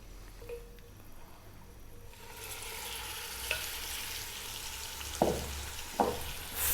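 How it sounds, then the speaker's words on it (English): Seasoned beef for an Arab-style Gulf biryani browns in hot oil over high heat, a steady frying sizzle rising after a quieter start, with a few sharp stirring clatters near the end. "we're going to get our seasoned beef in there, and we're going to brown it for about 5 or 6 minutes"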